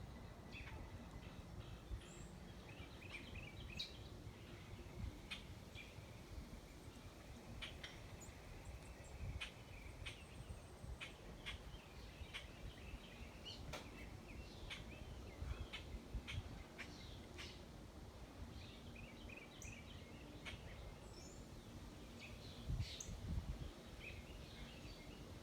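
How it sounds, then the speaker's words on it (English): Birds in the trees give scattered chirps and calls outdoors, faint to moderate and irregular, over a continuous low rumble that runs through the whole stretch. "A lot of chirping going on."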